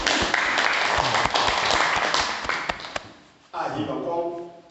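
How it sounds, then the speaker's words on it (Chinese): An audience at a scripture study class gives a burst of dense, loud applause that fades after about three seconds, then someone speaks over the quieting room. "大家掌声鼓励一下。"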